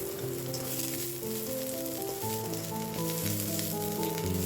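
Onion and garlic sauté in a pan as the base for chicken tinola with sotanghon, with a steady close sizzle and a faint hum underneath and no voices.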